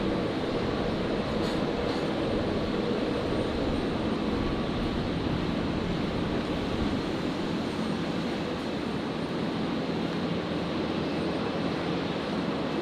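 A QantasLink Dash 8 400 turboprop arrives from Newcastle and touches down on runway 01 right at Brisbane Airport, heard as a steady, broad, distant rumble and hiss that holds constant throughout.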